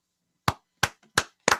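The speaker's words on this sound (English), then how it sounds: "if we can get a physical hand clap" Four separate, sharp hand claps from an audience at a talk-show event, spaced roughly a third of a second apart with a faint tap between the second and third, each clap crisp and fairly close.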